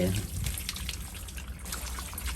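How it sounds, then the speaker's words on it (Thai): Pandan leaves washed one at a time in water, with continuous splashing, trickling and dripping close by as leaves are rubbed and rinsed, and someone talking over it. "นะครับแล้วก็ล้างไปเรื่อยๆครับ ล้างทีละใบ"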